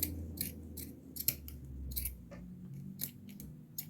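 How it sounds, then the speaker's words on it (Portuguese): Scissors snipping knit fabric yarn strips bit by bit for a boho round bag, several crisp close cuts spaced irregularly, quiet, with no voice. "Mas eu não vou cortar direto, eu vou cortando aos pouquinhos, tá?"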